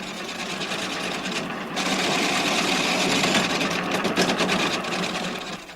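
Chisels cut a turning wooden spindle on a lathe in carriage building, a steady dense scraping hiss that swells louder midway with rhythmic ripples, close and continuous with no talk.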